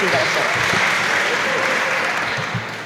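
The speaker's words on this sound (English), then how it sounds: "let's give her a round of applause and let's give them an amazing recognition" An audience applauding at a Hispanic Heritage Month opening ceremony, a loud sustained round of clapping that tapers slightly near the end, with a few voices and cheers mixed in.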